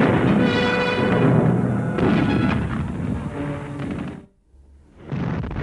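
Hummel heavy self-propelled guns of an SS Panzer division fire in heavy booming blasts with rolling rumble, several shots overlapping before a brief drop to near quiet and another roar.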